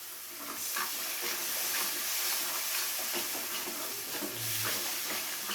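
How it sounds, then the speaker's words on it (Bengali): Water splashed into a hot pan of sizzling spice masala while cooking a vegetarian potato and pointed gourd korma, giving a steady loud hiss and steam with light stirring, no voices. "মশলার বাটি ধুয়ে দিয়ে দিচ্ছি জল।"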